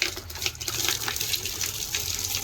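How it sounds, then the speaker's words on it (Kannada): Tap water runs in a steady, close, hissing gush while a doormat is being washed, with no voices. "ನೀರು ಚಾಲು ಮಾಡ್ತೀನಿ ತಡಿ."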